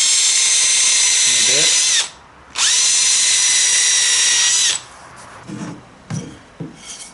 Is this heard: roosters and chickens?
no